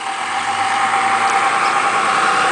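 A Ford 460 engine fitted to a hot-rod manure spreader idles steadily, a close, even, continuous rumble with a faint vibrating hum and no revving.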